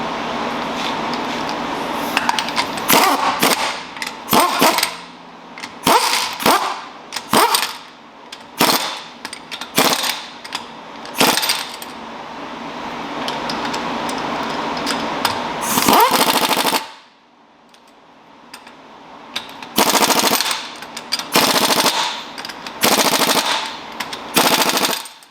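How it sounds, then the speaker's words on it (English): Impact wrench with a torque stick tightening lug nuts to 80 foot-pounds on a Honda CR-V wheel, heard as repeated loud, rattling hammering bursts of varying length separated by short pauses, with one longer continuous run. "Now I'm going to torque these lug nuts to 80 foot-pounds with the torque stick."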